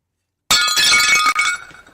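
Glass shatters with a sudden loud burst, a dense crash of bright breaking shards that rings briefly, cuts off, then trails into a scatter of fainter tinkling pieces; no voices.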